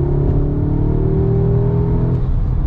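Engine note of an 8Y Audi S3 in dynamic mode, piped through the cabin speakers: a steady, droning low hum with a smooth whir above it, heard from inside the car with no talking.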